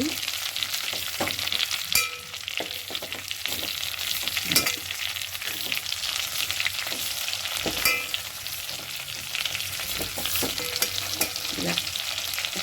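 Stuffed brinjal curry (gutti vankaya) simmering on low heat in a covered pan, a steady soft sizzle with occasional louder crackles and pops throughout, no talking.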